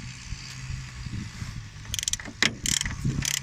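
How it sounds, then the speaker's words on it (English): Flex-head ratchet working strut tower bolts loose under the cowl of a 2009 Volkswagen Golf S, with steady low mechanical hum and then several sharp clicking, cracking bursts near the end, close and fairly loud. "And I'm going to break loose these bolts."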